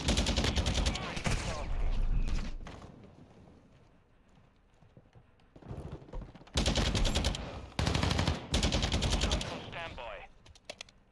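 Bursts of automatic machine gun fire in the Modern Warfare 2 beta, loud and close, coming in several separated strings with brief quieter gaps between them and little talk.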